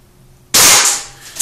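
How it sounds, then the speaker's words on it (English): One sharp, close BB gun shot cracks against a metal pan, ringing briefly and then fading. "Go ahead and shoot that that pan on the bottom"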